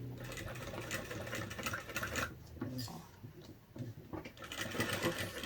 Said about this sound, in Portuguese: Eu vou costurar até onde tá a minha dobra.